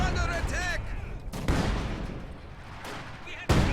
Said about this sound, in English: Here's another barrage from the Ziz right at all these Grens and this MG